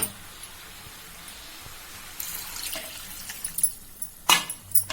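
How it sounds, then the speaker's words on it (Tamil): Water splashes and trickles into a pan of goat intestine curry, quiet at first, then more noticeable with a few sharp clinks and drips near the end. "இப்போ நம்ம ஒரு கப் தண்ணி சேர்த்துக்கலாம்."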